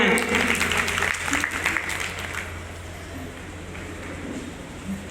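Loud applause from an audience at an Indian stage event, a burst of clapping that is strongest for the first couple of seconds and then thins into a softer, scattered patter.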